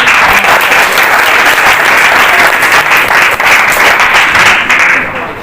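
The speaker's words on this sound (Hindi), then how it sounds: "चलिए हम यीशु मसीह के लिए एक जोर से ताली मारेंगे।" A congregation claps loudly for Jesus Christ, an intense, continuous roar of applause from a large crowd, very close and steady for five seconds before easing slightly at the end.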